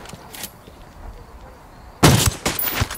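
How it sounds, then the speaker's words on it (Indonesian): Gunfire in Ghost Recon Wildlands: after about two quiet seconds, a loud burst of several sharp shots cracks out close up, with a few more following. "Kita sambil kita tembak juga aja kali ya."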